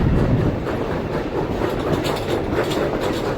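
A tourist train on the B&T Railroad in Virginia City, Nevada, rumbling steadily past with continuous clickety-clack of wheels on the rails and a broad, loud rolling roar throughout.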